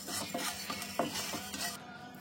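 Salt dry-roasting in a pan for a garlic idli paste: soft scraping and stirring with a few light metallic clinks against the pan, fairly quiet and close, with no voices.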